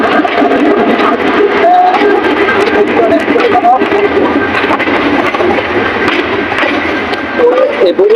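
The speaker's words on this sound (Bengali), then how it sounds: "একটা ট্রেন চলে আসছে" A train rumbles and screeches along the rails arriving at Gafargaon station, steady and loud, with crowd chatter and voices mixed in.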